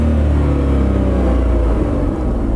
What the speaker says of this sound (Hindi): तो अंदर जो केबिन नॉइज़ है वो हल्का सा आता है